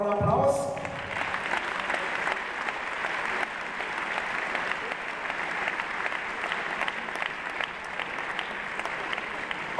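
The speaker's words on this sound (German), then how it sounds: "Also dafür auch nochmal einen Applaus." Audience clapping steadily at a German badminton event in Neuenhagen, a dense, sustained round of applause from a crowd, fairly close and continuous without any talk over it.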